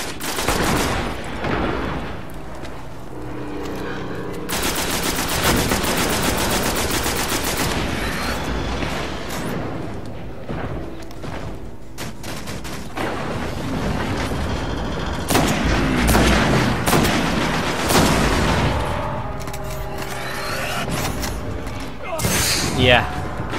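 A turret firing in Destiny, with sustained rattling bursts of rapid automatic fire and heavy booming impacts, loud and near, continuing across the stretch while people talk over the barrage.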